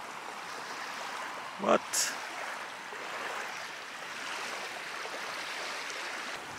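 Surf on an empty beach in Norway gives a soft, continuous wash of waves heard from a distance, faint and even. A brief spoken word cuts in near the start.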